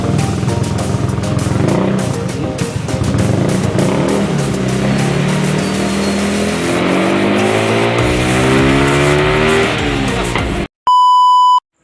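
A Yamaha Mio scooter engine with a newly installed digital panel board runs loud and close, revving up and settling with a rising and falling whine, then an electronic beep tone sounds at the end.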